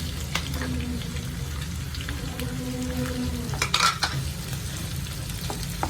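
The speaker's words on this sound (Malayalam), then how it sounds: "രണ്ട് സവാള ഇട്ട് കൊടുക്കാം" Two sliced onions fry and are stirred in a pan for a Kerala dried fish fry, with a steady close sizzle, scraping stirring strokes and a brief louder clatter near the middle. No one speaks.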